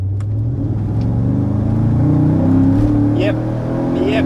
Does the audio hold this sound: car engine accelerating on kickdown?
yes